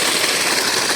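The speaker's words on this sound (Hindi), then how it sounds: "यहाँ पर फाइनली मोटर स्टार्ट हो गया है हम लोगों का।" An electric motor runs after starting, a loud, steady, dense mechanical whir with a low rumble, heard close for about a second with no talk.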